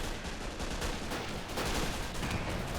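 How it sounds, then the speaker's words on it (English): Anti-tank rifles fire in the WWII strategy game Men of War: Assault Squad during a tank assault on a fortress, heard as a loud, dense, unbroken barrage of overlapping shots and blasts with no pauses. "AT rifles are firing like mad."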